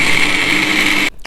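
A kitchen blender grinding nuts for a white chocolate cheesecake, a loud, steady high-pitched whir that runs unbroken for about a second before cutting off abruptly.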